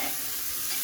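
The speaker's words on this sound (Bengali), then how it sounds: "সবজিগুলো একটু ভাজা হলে, সরিষার তেলে রান্না করছি" Vegetables cooking in mustard oil for a vegetable pulao khichuri make a steady, close hiss of frying that stays even and unbroken through the short stretch.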